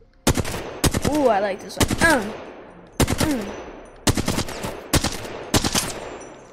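Gun-testing in Apex Legends on the Nintendo Switch produces loud, sharp shots in quick clusters of two or three, each with a short decaying tail, while someone speaks briefly between the early bursts.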